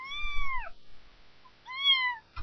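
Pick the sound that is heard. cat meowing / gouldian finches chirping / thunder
cat meowing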